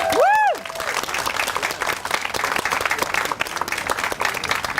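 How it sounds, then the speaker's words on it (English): Applause from a gathered crowd at the grand opening of a community tennis facility in a park, a dense steady patter of many hands clapping after a brief cheer at the start. "Can we have a round of applause?"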